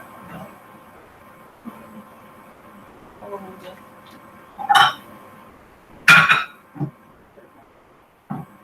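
Hash browns are scraped from a skillet into a bowl, with a couple of sharp utensil clinks and scrapes against the cookware standing out over a quiet kitchen, plus a few softer knocks and occasional faint talk.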